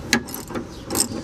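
Spring compressors tighten on a car coil spring in a few short ratcheting clicks and mechanical turns, close by and moderately loud, with no talk.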